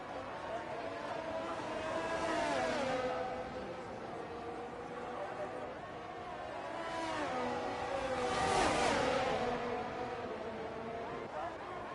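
F1 race cars in the F1 22 video game whine past in a DRS slipstream at Miami, engine pitch swelling and fading in waves beneath an excited commentator's voice.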